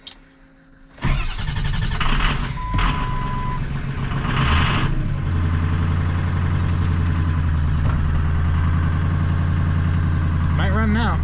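Long-dormant Powerstroke pickup truck cranking over and catching, then settling into a steady, rough diesel idle, close and loud, with a brief beep and people talking over it.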